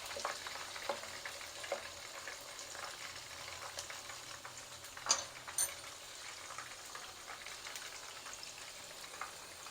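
Katlama, a Lahori fried flatbread, deep frying in hot oil, a faint, steady bubbling sizzle with a couple of soft knocks partway through and no voices.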